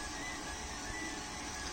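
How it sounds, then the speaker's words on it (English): A Creality Ender 3 3D printer prints, giving a steady, faint mechanical whir and hum that continues unbroken with no talking. "I'm printing something at the moment."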